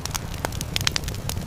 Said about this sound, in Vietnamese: Tia lửa bén vào mồi khô, khói mảnh bốc lên,